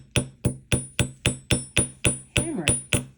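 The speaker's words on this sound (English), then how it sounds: "So I'm going to use the hammer here and just go ahead and" A hammer strikes aluminum wire for a wire-wrapped cuff bracelet. About a dozen sharp, ringing taps come at a steady quick rhythm, close and clear.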